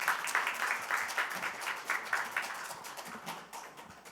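An audience at a National Assembly forum on the special-city act claps for a lawmaker's opening address, a moderately distant round of dense applause that gradually thins and fades.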